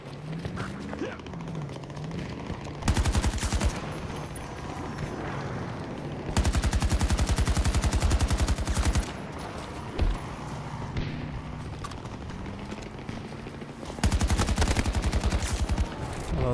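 Gunfire in the video game Battlefield 2042 comes as three loud sustained automatic bursts separated by quieter gaps, close and dominant over a low battlefield background.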